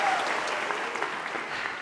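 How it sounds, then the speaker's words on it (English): An audience at a live show applauds the speakers, a steady, even wash of clapping throughout with no break, fairly distant and moderately loud. "let's give a round of applause to all the speakers one more time"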